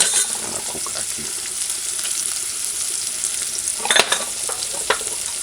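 Ackee frying in a pan with paprika, a continuous bright sizzle broken by a few sharp scraping stirs near the end, close and alone with no voices.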